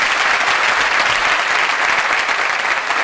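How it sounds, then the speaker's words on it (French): A large audience at a 2012 diploma-awarding graduation ceremony bursts into sustained applause, a loud, dense, continuous roar of clapping hands filling the room without speech. "Je vous demande d'applaudir"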